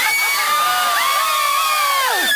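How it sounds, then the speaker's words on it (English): A Renaissance faire audience at an outdoor Tempest show screams together on cue, a loud mass of mixed adult and children's shrieks and whoops rising and then falling away over about two seconds. "And lightning strikes the ship and everyone screams!"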